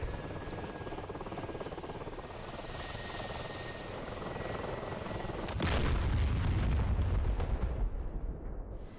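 Mi-8 military helicopters fly with a steady, dense rotor and engine roar that swells louder and closer toward the end, with no voices.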